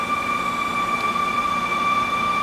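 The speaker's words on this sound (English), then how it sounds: "That sound was we're cutting off a 3-inch bar of steel." A CNC machine cuts off a 3-inch steel bar, giving a steady, loud, piercing tonal whine with constant grinding noise beneath, unbroken throughout.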